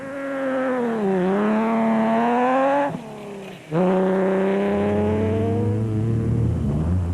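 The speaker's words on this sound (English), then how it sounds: "had his Plaster Tech race car humming along" A race car engine at the Toyota 1000 off-road desert race in 2006, revving loud and close in sustained high whining pulls, dropping briefly between gear changes and then climbing again as the car speeds along.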